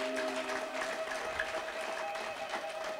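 A church congregation claps together in a fast, steady, rippling texture, fairly faint, over sustained musical tones.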